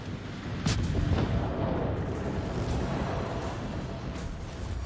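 Naval gunfire during a World of Warships battle with a Shimakaze destroyer: a steady low rumble of distant booming salvos and muffled blasts rolling on throughout, with a few sharper thuds near the start.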